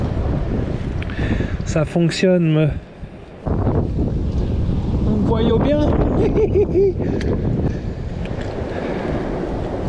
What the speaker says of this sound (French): Le temps il a changé complètement, il y a beaucoup de vent